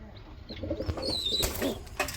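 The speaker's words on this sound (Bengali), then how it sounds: "চলে আসছে বন্ধুরা গ্যালারিতে খুবই সুন্দর এক জোড়া হোয়াইট কালার রেসার কবুতর" A pair of white racer pigeons in a gallery, soft coos and a brief rising call up close, with some shuffling or wing movement and a sharp rustle near the end.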